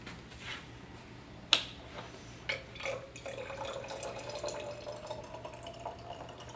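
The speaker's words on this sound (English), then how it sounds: "And then we're going to add a little bit of water." A small amount of water trickles into oil in a simple science experiment, heard as faint, quiet drips and one sharp little splash, followed by a soft, sustained trickle close by.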